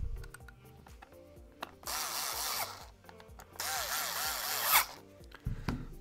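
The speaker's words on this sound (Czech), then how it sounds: "Takhle si tam dám jeden šroubek, druhý." Small screws being driven into a kydex appendix pistol holster, two bursts of close, ratcheting mechanical whirring with clicks between them, no talking.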